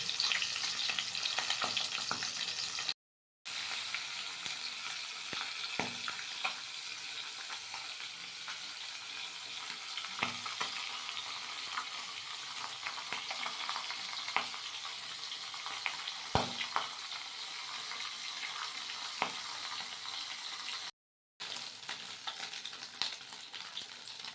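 Fish head, apparently catla, frying in oil in a pan for a Bengali Malabar spinach chorchori: a loud, steady, close sizzle running throughout, with a few brief crackles and short pauses, and no talking.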